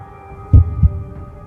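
A slow, deep heartbeat sound effect in a horror story, two heavy low thuds in quick succession over a faint dark hum, close and alone.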